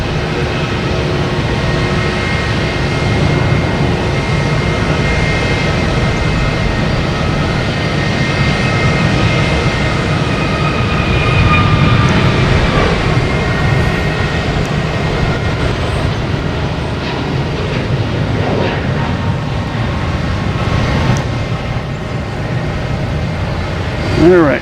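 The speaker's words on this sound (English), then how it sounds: "American Airlines taking off, heading to Miami in A321neo" American Airlines Airbus A321neo taking off from Boston Logan, bound for Miami; a steady, loud jet roar holds for the whole stretch with a slight swell midway, and a voice speaks over it at times.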